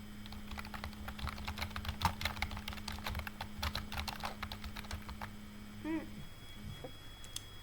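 Fast, steady clatter of keys on a computer keyboard being typed in bursts, close and fairly quiet, with a low steady hum underneath and no talking.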